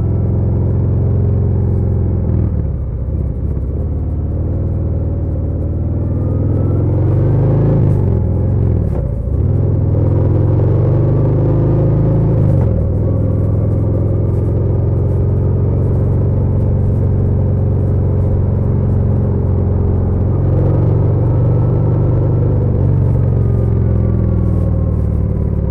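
A custom Harley-Davidson FXDR motorcycle being ridden, its engine a steady, loud, deep rumble that swells with a few rises in revs and shifts, heard alone.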